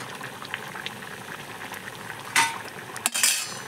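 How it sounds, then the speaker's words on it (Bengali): A pot of dried salted hilsa curry with potato, eggplant and taro bubbles steadily after the lid comes off, a soft continuous simmer with a few brief clinks and scrapes near the end. "খুলে তরকারিটা ফুটছে"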